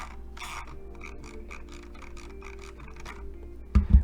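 Scroll wheel of a Logitech Triathlon M720 mouse turned by hand, giving a rapid run of light ratcheting clicks for about four seconds, then a couple of louder handling knocks at the end. It is close and has no talk.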